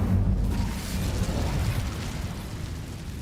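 An Incendio fire spell cast in Hogwarts Legacy, a loud, deep roaring whoosh of flame that bursts at once and sustains as a dense rumbling blaze throughout.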